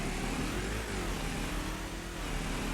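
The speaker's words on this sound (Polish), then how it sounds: "Zobaczymy jak motorkiem się jeździ." A motorcycle engine in the video game Farming Simulator 25 runs with a dense, steady drone at a constant level throughout, close and alone.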